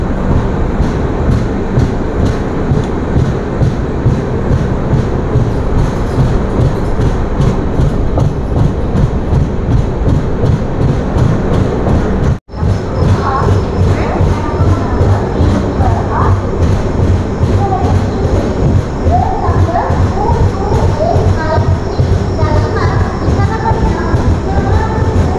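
Shalimar–Visakhapatnam weekly superfast express train 22853 runs on rails with a steady, loud rumble and rhythmic clickety-clack of wheels over joints throughout, a brief dropout midway, then lighter clatter.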